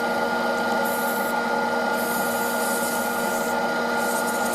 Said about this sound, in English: Again, I'm just using the 180 sandpaper.